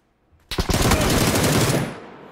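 Suppressed gunfire from a silenced weapon in the video game PUBG, a rapid automatic burst of muffled shots lasting over a second after a brief quiet start, then trailing off.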